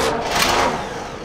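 A car engine with its throttle pedal stuck to the floor revs hard and continuously, a loud sustained roar up close with no talk over it.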